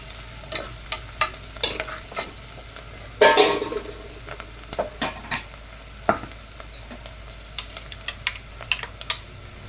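Onions frying with masala in a pan give a steady low sizzle, punctuated by irregular scraping and clinking strokes of a spoon stirring, close and fairly quiet, with no talking.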